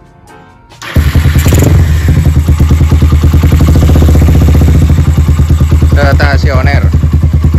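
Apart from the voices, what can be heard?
Honda CB100 motorcycle engine starting and idling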